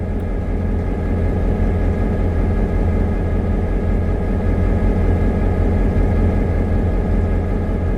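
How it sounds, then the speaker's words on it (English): B&LE 878 diesel locomotive idling inside the Greenville locomotive shops, a loud, steady, deep engine rumble with a constant drone and no change in pitch, heard alone without voices. "they were seen here idling in the Greenville locomotive shops"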